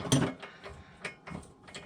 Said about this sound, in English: I'm gonna ratchet the rest out.